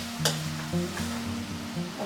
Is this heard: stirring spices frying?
yes